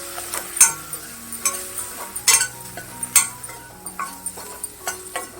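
Okra sabzi with goda masala being sautéed in a pan: a soft, continuous sizzle broken by repeated stirring scrapes and sharp spatula clinks against the metal pan, close by and with no talking.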